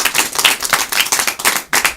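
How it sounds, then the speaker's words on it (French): An audience applauds an actress at a live troupe performance, with steady rhythmic clapping from a crowd, fairly loud and close throughout, without voices. "Lisa qu'on applaudit, comédienne."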